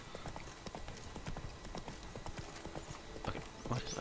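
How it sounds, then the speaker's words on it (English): Pink unicorn hooves clip-clopping in Witcher 3: Blood and Wine, a brisk run of hoof strikes at moderate distance, with a brief whinny near the end. "There's another pink unicorn."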